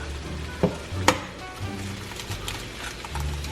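Eggs fry in a pan with a steady close sizzle, punctuated by a couple of sharp clinks and scrapes of a utensil against the pan.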